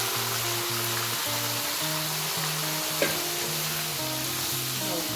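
Dal frying in a pan on a home kitchen stove sizzles loudly and steadily, with a constant crackle throughout and a single brief knock partway through; no one talks.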